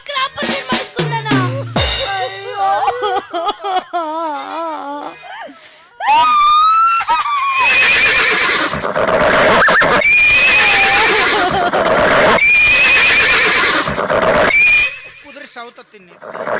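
A horse neighs in several shrill, wavering whinnies close by in the opening seconds, then loud voices and drawn-out wailing tones take over.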